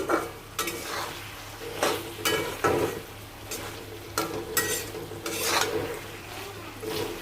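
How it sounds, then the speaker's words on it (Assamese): Chicken pieces fry in hot bubbling oil for a chicken-with-banana-sauce dish, a soft sizzle broken by repeated scraping strokes of a stirring spoon in the pan, close and fairly quiet. "তেলটো আৰু অলপ ফুটিব দিম।"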